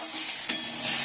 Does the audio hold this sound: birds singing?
no